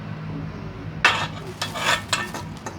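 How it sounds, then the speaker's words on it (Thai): Pork, vegetables and fish sauce for Thai nam tok are stirred and tossed in a hot pan with quick scraping strokes over a steady sizzle. Several bursts, close by. "คลุกเคล้าให้เข้ากัน"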